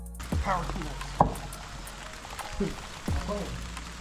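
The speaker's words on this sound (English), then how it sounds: "it's starting to rain" Rain begins to fall on an outdoor spot where a Nissan Silvia S15's suspension is being repaired, a light patter under occasional sharp knocks and thuds, with a person's voice nearby.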